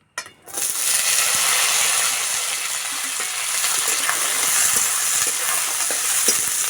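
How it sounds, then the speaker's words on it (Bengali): Cauliflower, pumpkin, onion and chilli frying together in a pan, a loud bright sizzle that bursts in after a brief silence and holds steady, with occasional clicks and scrapes of stirring. "সবজি ভালো করে ভেজে নেব।"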